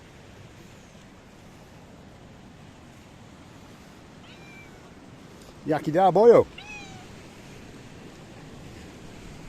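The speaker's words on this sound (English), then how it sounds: "The little pussycat he's coming down to say bonsoir, especially to you." A cat near Kefalos Beach, Paphos, Cyprus gives a short run of loud, close meows midway, over a steady wash of wind and surf, with a person speaking briefly.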